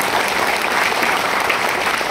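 An audience claps steadily for two honorees at a World Environment Day event, a dense, even wash of applause filling the short span with no pauses.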